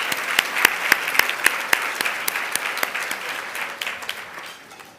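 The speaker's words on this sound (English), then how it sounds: "That deserves applause." An audience at a Women of Achievement luncheon breaks into applause, a loud, dense burst of many hands clapping that slowly thins and fades out.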